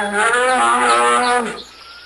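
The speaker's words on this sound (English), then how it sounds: "Cow." A single drawn-out cow moo, loud and close, from an animal-sound learning app, holding steady before trailing off near the end with no other sounds.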